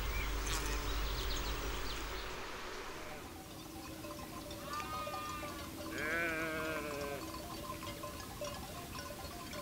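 Sheep bleat a few times at a moderate distance in Monfragüe National Park, wavering calls standing out over a steady outdoor background hum with insects.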